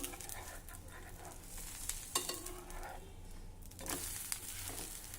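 Edani flatbreads roasting with oil on a pan until crisp, giving a faint, steady sizzle with soft crackles and a few small scrapes.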